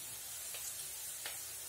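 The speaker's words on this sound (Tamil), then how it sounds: "கொஞ்சம் வெங்காயம் வதங்கட்டும்" Onions sautéing in a pan, with a steady, quiet hiss and soft sizzle that holds evenly throughout and has no other sounds over it.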